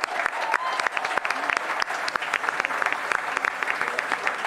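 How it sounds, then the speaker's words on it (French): Live audience at a French political talk show clapping in applause, sharp individual claps standing out over a steady crowd patter, sustained and moderately loud throughout. "applaudissements pour Usul pour cette carte blanche"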